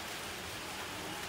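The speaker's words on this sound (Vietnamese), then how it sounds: "Trời mưa." Steady, dense rain hissing continuously, with no other sounds standing out.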